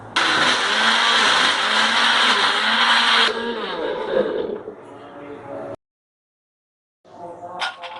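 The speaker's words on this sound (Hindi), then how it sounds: "अब हम इसे अच्छी तरह ब्लेंड कर लेंगे" An electric blender whirs loudly as it blends a watermelon milkshake with milk and ice cubes. The motor runs steadily, shifts pitch partway through, then cuts off into silence before some brief clattering.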